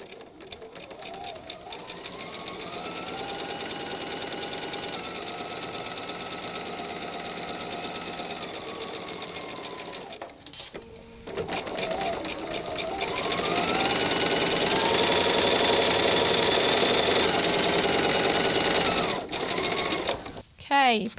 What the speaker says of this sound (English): let's just start sewing down our drawn lines